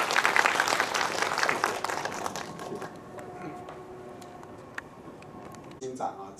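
A lecture audience applauds to welcome a speaker, with dense clapping at first that thins out to scattered claps and faint room sounds, then a voice begins near the end.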